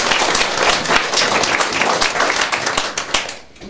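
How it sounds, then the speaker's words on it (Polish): An audience applauds at an author meeting with Katarzyna Bonda and Mariusz Czubaj in Kłobuck, with steady, dense clapping from many hands that carries on loudly before thinning out at the very end. "oklaski dla wszystkich"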